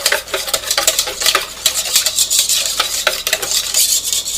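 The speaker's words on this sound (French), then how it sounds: "je mélange bien pour que la farine se mélange bien" Whisking clafoutis batter with flour in a greased porcelain dish gives a continuous scraping, clinking stir, steady and close, with no voices.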